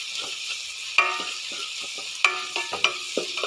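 Egg curry masala sautéing in a pan, with a soft steady sizzle broken by several sharp spatula scrapes and taps against the pan, close and fairly quiet.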